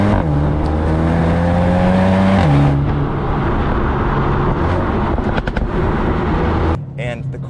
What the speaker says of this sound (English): You also get the exhaust pops on the downshift.